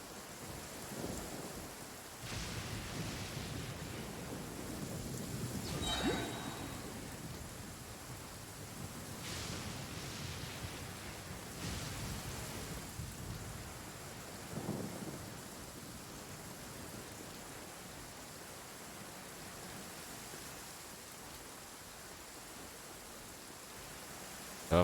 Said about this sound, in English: Okay, so Thunder is like striking me right now